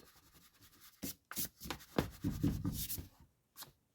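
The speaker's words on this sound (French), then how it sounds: "je vais gommer. Maintenant que j'ai récupéré une gomme." An eraser rubs across paper in several short scrubbing bursts with pauses between them, close and fairly quiet, with no talking.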